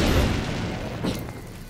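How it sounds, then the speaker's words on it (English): A bomb blowing up in The Legend of Zelda: Link's Awakening, a loud dull boom that rumbles and fades over under two seconds. "let's just throw a bomb down."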